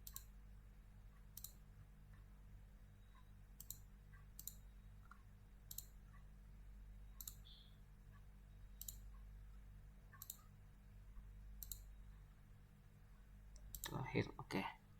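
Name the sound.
mouse clicks while working in Mastercam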